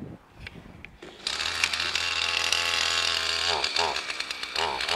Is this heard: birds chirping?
no